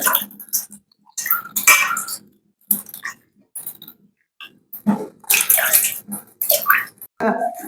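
Water splashes and sloshes as mushrooms are washed by hand in a container, coming in close, irregular bursts separated by short quiet gaps.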